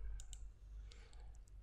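Sharp clicks of a computer mouse while working in CorelDRAW, a few distinct quick taps spaced apart over a low steady background hum, close and fairly quiet.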